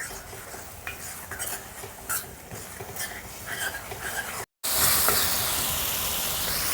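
Onion and tomato sauté in hot oil for a village-style vilangu fish curry, with a soft, continuous sizzle and hiss broken by scattered scrapes and clinks of a spoon stirring the pan. A loud burst of steam hiss follows a brief gap.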